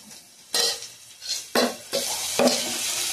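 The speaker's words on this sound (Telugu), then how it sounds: "ఇవన్నీ కలుపుకొని వేయించుకోవాలండి" Chicken frying with a ginger, garlic, cumin and coriander paste in a pan, stirred in four scraping strokes over a gentle sizzle, close and moderately loud, with no speech.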